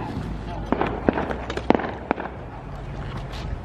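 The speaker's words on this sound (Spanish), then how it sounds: "Los vecinos que están ahí tienen muchísimos cohetes." Scattered sharp pops and bangs of fireworks go off at a distance, several in quick succession, over background noise and faint voices.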